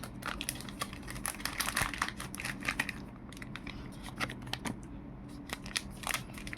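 Crinkling and snipping of plastic and cardboard packaging while a DJI Action 4 Adventure Combo camera is unboxed, a steady run of close, quiet clicks and rustles with no talking.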